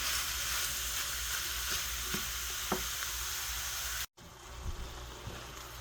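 Ground pork frying in a pan for a tourtière meat pie sizzles steadily and closely, with a brief cut partway through and a few soft stirring scrapes.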